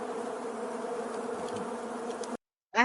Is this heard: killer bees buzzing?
yes